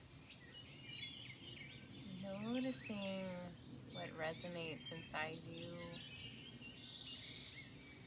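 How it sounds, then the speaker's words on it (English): Birds chirp and call outdoors in spring, faint and intermittent beneath a calm, soft-spoken voice guiding a meditation. "listening to the call of the birds"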